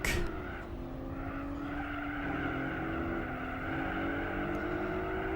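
Car tires skidding and squealing under oversteer in the racing game Gran Turismo 4, a sustained screeching slide over a steady engine drone, continuous and loud without speech.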